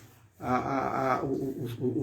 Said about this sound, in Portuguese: eu imagino que seja para cachorrinha fazendo barulho